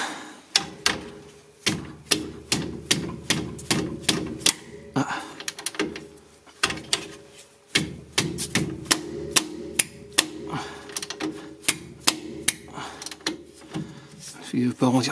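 Wrench ratcheting on the nuts of a rear shock absorber on a 2006 Mercedes C200, rapid bursts of close, sharp mechanical clicks with short pauses between runs, and someone speaking at times.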